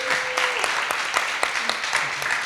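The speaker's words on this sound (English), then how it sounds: "So please give David a round of applause for this effort." An audience applauds David at a discussion event, a short burst of brisk, fairly close clapping with individual claps standing out and a faint voice behind it.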